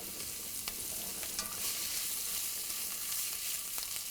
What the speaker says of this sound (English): Once the oil is hot, I am going to add onion and required salt